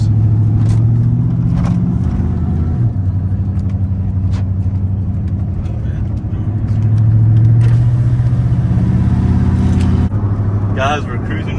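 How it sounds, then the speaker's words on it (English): A Chevy Silverado pickup truck on a road test drive, its engine droning in a low steady hum with a gentle rise in revs partway, interior cabin rumble close and continuous. "Alright, we're going to take it out on a little test drive"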